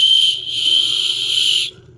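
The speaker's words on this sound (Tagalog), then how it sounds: "Pito siya." A shrill whistle is blown in one sustained, fairly loud blast lasting under two seconds, then cut off abruptly.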